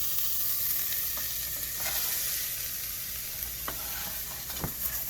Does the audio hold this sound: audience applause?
no